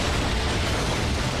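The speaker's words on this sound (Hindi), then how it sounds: "हम उस धमाके से नहीं बच सकते" An explosion effect in an animated Transformers Prime episode rolls out as a loud, dense, continuous roar of blast noise with no voices.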